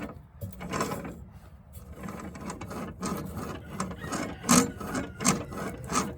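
A Craftsman II lawn tractor mower deck runs roughly, giving a continuous grinding, rasping mechanical scrape with a few louder scraping bursts near the end, close and fairly steady, with no talking.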